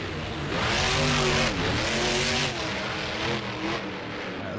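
Monster truck engine from the Monster Jam video game, a loud droning roar that revs up and shifts pitch as it drives, steady and close with no talking.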